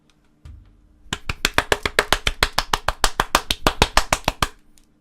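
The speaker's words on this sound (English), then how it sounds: "Please welcome him with a big round of applause." Sparse, steady applause in the Steins;Gate video game: a short run of evenly paced claps from a small audience, fairly close and clear, lasting a few seconds with no talking over it.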